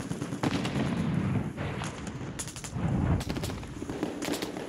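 Gunfire in the video game Warzone crackles in sharp bursts and single shots over a few seconds, with rapid automatic volleys among them at moderate distance.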